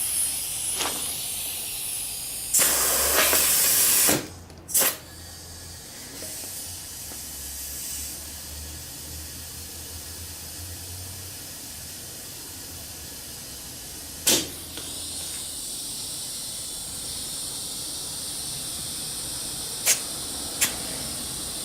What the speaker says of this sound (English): I put in about 35 pounds of pressure